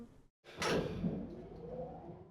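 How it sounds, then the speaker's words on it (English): Doors slide shut in the video game Danganronpa: after a brief silence, a sharp mechanical clunk hits and trails into a rumbling, reverberant slide that slowly fades, heard alone without talk. "And the doors slid shut."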